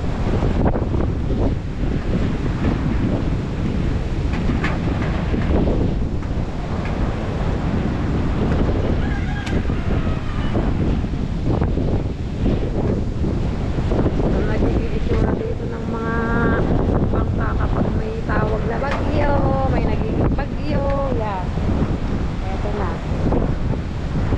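Typhoon winds roar without a break, with clanging and rattling of galvanized iron roofing sheets torn loose and lifted, and someone talks at times under the gusts.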